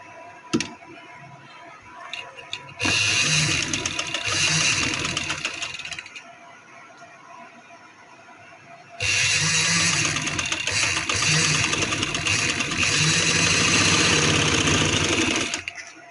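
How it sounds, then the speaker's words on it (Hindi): A sewing machine stitches a folded kameez side patti in two close, steady runs, the first about three seconds long and the second longer, separated by a quiet pause. "ये जो है इसको यहाँ से फोल्ड करके सिलाई लगा लेंगे"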